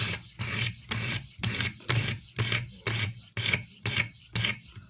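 A Benchmade 13940 knife blade is sharpened on a Venev stone, with about ten evenly paced, close, gritty rasping strokes, each separated by a short pause.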